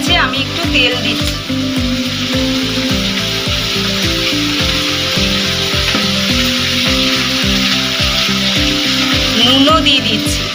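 Chicken fries in oil in a pan with bay leaf and cumin, a close, loud sizzle under a fast, regular run of scraping spatula strokes that keeps going throughout.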